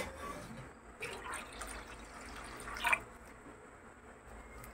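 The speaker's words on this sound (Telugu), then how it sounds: "నేను నీళ్ళు అయితే పోసుకుంటా." Water poured into a cooking pot while making undrallu payasam, a sweet rice-dumpling pudding for Ganesh Chaturthi; a faint, steady trickle and splash in a quiet kitchen, with no talk.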